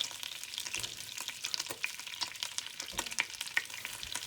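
Pork chops frying in a hot pan, a dense crackling sizzle with scattered sharp pops, steady and close with no talking.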